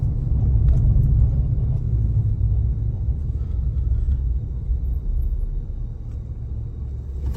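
A car driving along a bumpy rural road, with a loud, steady low engine and road rumble close up inside the cabin that eases slightly toward the end.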